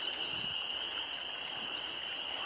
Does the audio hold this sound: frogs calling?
yes